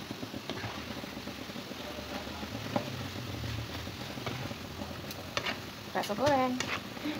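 Bakso goreng, fried meatballs, crackle in hot oil with a soft, continuous sizzle, while a voice talks faintly over the frying.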